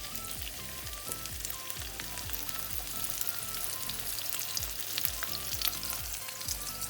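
Breaded chicken fillets, dipped in egg and breadcrumbs, frying in a pan with a loud, steady, crackling sizzle that stays dense and close from start to finish, with no voices.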